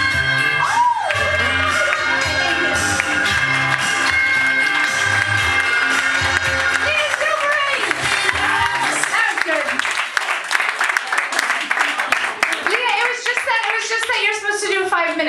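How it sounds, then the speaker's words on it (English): Audience clapping and a few whoops after a stand-up comedy debut set, steady and dense across the whole stretch, mixed with loud music and some voices. "Another round of applause"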